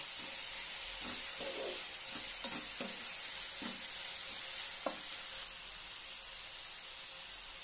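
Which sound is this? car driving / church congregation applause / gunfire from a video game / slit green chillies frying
slit green chillies frying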